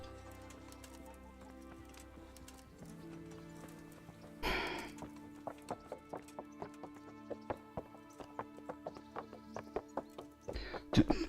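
Horse hooves clip-clop at a steady walking pace in the medieval setting of Kingdom Come: Deliverance, hoofbeats spaced evenly and fairly close over a soft ambient music bed with occasional birdsong.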